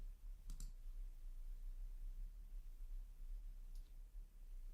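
A computer mouse gives a quick double click, soft and close against a low steady hum, followed a few seconds later by one fainter click.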